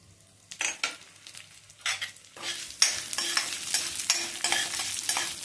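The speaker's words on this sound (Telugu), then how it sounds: "మినప్పప్పు కొంచెం వేగాలి" Urad dal frying in hot oil for a Vallari leaves chutney, starting quiet and building into bursts of crackling sizzle with repeated spoon stirring and scraping against the pan, up close, no speech.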